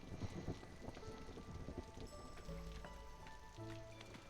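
Steady storm rain in the village-building game Against the Storm, a dense patter of drops with scattered heavier splashes and faint low rumbles, continuous and fairly quiet throughout.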